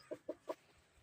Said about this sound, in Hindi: मैं अभी आपको दिखाने लगा हूँ लाल वाला मुर्गा और लाल वाले मुर्गे की मुर्गियाँ